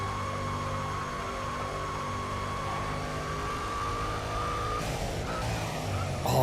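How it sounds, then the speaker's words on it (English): Supercharged car with a centrifugal supercharger in the racing game NFS Pro Street, letting off the throttle: a steady, loud engine drone with a thin whine that falls away, then a brief rising burst near the end, no voices. "Oh, the off-throttle sound sounds so good."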